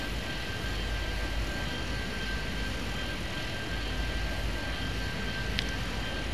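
Airplanes in the airport game Airport Madness 3D produce a steady, even engine drone with a faint whine, continuous and unchanging throughout with no voices.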